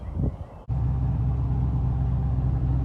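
Chevrolet Camaro 2SS engine warming up, a steady low rumble that starts abruptly after a brief dip and then holds a continuous, loud idle close by.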